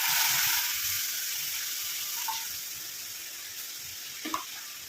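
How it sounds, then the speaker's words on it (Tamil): Juice pours into a hot iron pan and sizzles loudly at first, then the hissing gradually eases into a steady, softer bubbling. "நம்ம எடுத்து வச்சுருக்க ஜூஸை வந்து உள்ளே ஆட் பண்ணிக்கலாம்"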